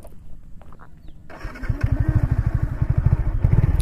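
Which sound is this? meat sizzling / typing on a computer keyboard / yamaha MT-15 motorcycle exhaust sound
yamaha MT-15 motorcycle exhaust sound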